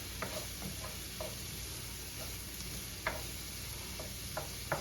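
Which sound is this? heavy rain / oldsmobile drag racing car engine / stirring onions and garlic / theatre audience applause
stirring onions and garlic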